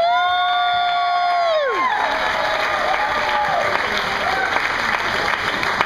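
At a beach resort's evening show, an audience gives a gentleman another round of applause: a few sustained musical tones fade out, then loud crowd clapping with scattered cheers and whoops carries on steadily.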